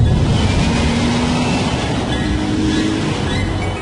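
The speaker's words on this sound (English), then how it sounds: "You just have to press the pedal a little bit harder. And when you do, this V6 engine," A V6 engine in a light car revving hard under acceleration, a loud steady broadband roar with rising harmonic tones, close and continuous without any voices.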